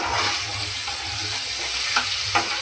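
Onion, tomato and ginger-garlic paste fry in a pan for a home-cooked evening meal, a steady close sizzle with a couple of brief spoon knocks or stirs near the end, no talking.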